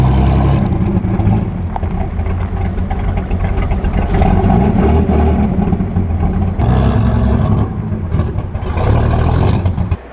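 A vintage Talbot race car at the Mille Miglia passes close by with a loud, deep, truck-like engine roar that holds strong throughout and briefly dips before surging again.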